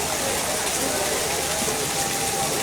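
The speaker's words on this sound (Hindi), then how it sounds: "हॉस्पिटल साइड में भी तेज़ बारिश हो रही है" Heavy monsoon downpour over a market street in Ramgarh Shekhawati, a dense, steady roar of rain hammering surfaces at close range, continuous and loud throughout.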